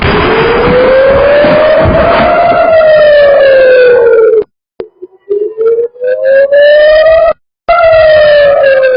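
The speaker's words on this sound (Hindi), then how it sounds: "पहला रॉकेट गिरने के बाद ही सायरन बजते रहे" Warning sirens wail after a rocket attack near Tel Aviv, one loud rising and falling tone sweeping slowly over a noisy background, with brief dropouts partway through.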